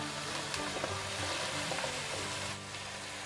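Sliced pork stir-frying in a pan with teriyaki sauce and sugar: a steady, dense sizzle runs throughout with faint stirring movement, close and continuous, with no voices.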